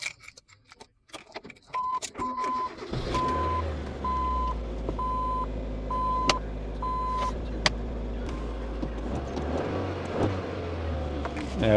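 A 1999 Mazda Protege engine idles steadily with a low rumble after a front engine mount replacement, starting up after a few seconds of clatter and keys, with a repeating reversing-style beep over the first seconds of running.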